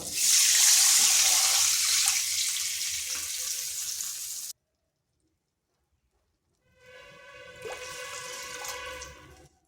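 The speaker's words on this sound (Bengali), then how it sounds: "এরপর এখানে দিয়ে দিচ্ছি 2 বাটি জল।" Two bowls of water poured into a hot pan while making a potato and semolina snack: a loud hissing, sizzling pour, a silent pause, then a second splashing, sizzling pour, close up with no talking.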